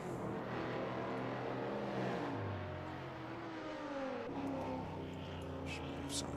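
Ford GT40 Mark II race car in a racing simulation, its engine droning with shifting pitch as it revs and changes gear, fairly quiet and steady under the mix.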